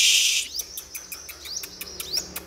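A sunbird kept as a trained singing bird gives a quick series of thin, bright chirps and short rising whistles, repeated rhythmically and heard close and clear.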